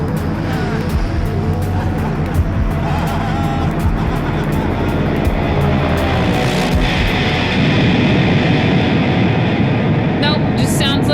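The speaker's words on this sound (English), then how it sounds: "Hear the airplane coming?" Airplane sound effect from a song: a loud, continuous engine-like roar sweeping over dense, pulsing electronic music, swelling toward the end.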